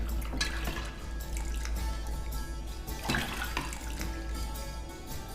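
Water splashes and runs steadily in a continuous pour, fairly close and alone, with a few louder gushes partway through.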